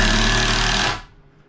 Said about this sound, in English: drilling in my board in a good spot